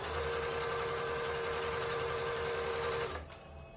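A sewing machine runs a zigzag stitch through fabric with a fast, even mechanical whirr and chatter that continues steadily, then winds down near the end, with no talking.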